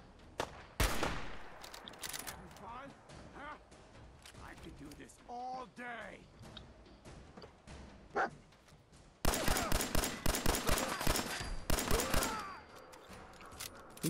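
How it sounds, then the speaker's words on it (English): Gunfire in the video game Fallout 4, bursts of rapid shots and single cracks through the action, with a dense loud volley near the end, while a player talks over it. "Who's shooting me?"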